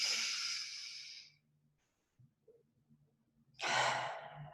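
Two deep, breathy inhalations during a breathing exercise, each a soft rushing hiss close to the microphone, separated by a quiet pause with faint small sounds.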